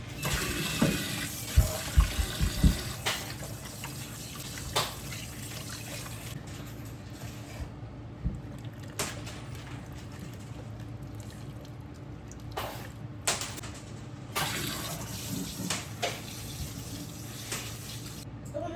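Tap water runs steadily over a sink while freshly churned homemade butter is rinsed to wash out the buttermilk, with a few clattering splashes early and a continuous close wash throughout.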